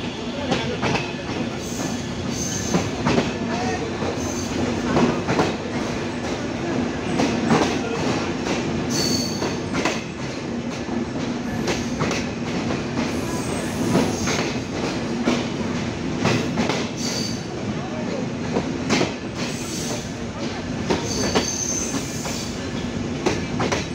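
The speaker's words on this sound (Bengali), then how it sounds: "চিত্রা এক্সপ্রেস ট্রেন প্রবেশ করলো কুষ্টিয়ার ভেড়ামারা রেল স্টেশনে" Chitra Express train pulling into Bheramara railway station in Kushtia, with steady heavy rumbling, rhythmic wheel clatter over rail joints and occasional metallic squeals, loud and close throughout.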